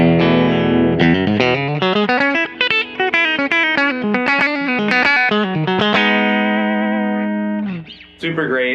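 A bright electric guitar, a 2013 Fender SRV Stratocaster on its bridge pickup, plays chords and single notes with a clean, twangy tone. It rings out alone for several seconds, then briefly pauses before resuming.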